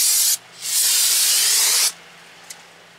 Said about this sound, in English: Go ahead and spray down the rotor again.